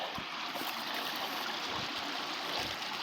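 Creek water runs over riprap-lined banks with a steady broadband rushing and gurgling at moderate distance, continuous through the moment.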